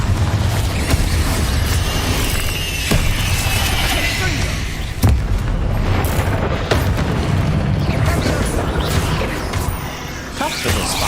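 A Confringo fire spell bursts in Hogwarts Legacy, a loud booming blast over a dense, continuous wash of game combat noise and music, with sharp impacts recurring through the battle.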